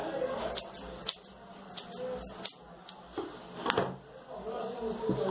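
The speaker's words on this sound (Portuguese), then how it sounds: "Vou cortar pra ficar bem redondinho." Scissors snip through wool yarn while shaping a round woolly teddy bear, about eight short crisp cuts at an uneven pace, close and fairly quiet.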